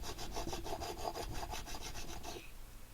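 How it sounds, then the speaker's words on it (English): A diamond file rasps steadily across a resin bobbin in quick, even back-and-forth strokes, loud and close, with no talking, then stops abruptly near the end. "this diamond file is a one hell of a lot faster than that other one"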